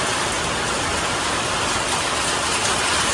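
A downpour in a strong May storm hisses loudly and without a break, rain drumming on nearby surfaces in a thick, even roar that holds steady from start to finish, with nobody speaking.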